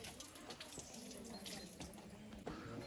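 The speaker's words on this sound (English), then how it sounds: "So this is considered to be holy water here." Holy water runs from a tap at a spring in ancient Ephesus, a faint, continuous trickle and splash among outdoor background noise, with soft voices nearby.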